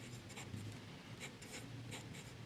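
A Pilot fountain pen with a broad B nib scratches across paper in short strokes and pauses, soft and close, with faint rhythmic scraping.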